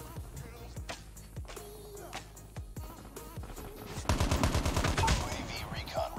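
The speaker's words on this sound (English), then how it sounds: "Someone shooting me in the back." Rapid gunfire bursts from the Call of Duty Mobile mode Gold Rush, with sparse shots early and then a dense, loud fusillade near the end, mixed with game sounds and a player talking.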